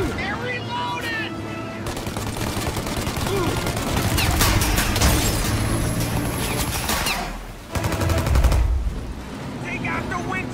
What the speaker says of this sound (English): Shoot the gun! Shoot now while we got the chance!